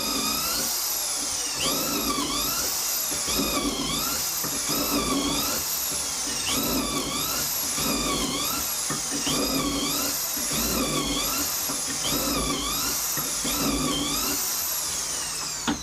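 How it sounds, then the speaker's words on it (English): An electric drill bores dowel holes through a jig into a wooden post, with repeated rising and falling whines as the bit spins up, cuts and slows, about ten times in a steady rhythm, close and loud. "Drill the holes."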